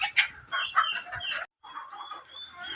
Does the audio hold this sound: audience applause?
no